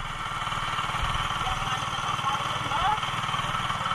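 A fire truck engine idles at a fire response in Rawasari, Banjarmasin, with a steady low rumbling throb close by and faint voices talking underneath.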